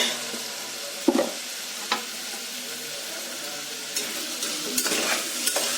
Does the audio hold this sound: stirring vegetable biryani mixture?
yes